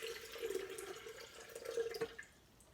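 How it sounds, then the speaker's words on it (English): Water pours into a blender while beef stew ingredients are prepared, a short faint trickle with a steady tonal ring that cuts off after about two seconds. "we always have to put water in the blender so that it'll blend nicely."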